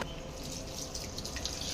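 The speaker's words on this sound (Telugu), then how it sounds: "ఇప్పుడైతే వాటర్ అయితే పోసుకుందాం." Water is poured from a vessel into oiled rice in a pot while egg biryani with meal maker is cooked, a short steady splashing trickle that stays fairly soft.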